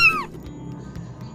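An orphaned kitten meows once, a short high rising-and-falling cry at the start, close by, followed by quiet room noise.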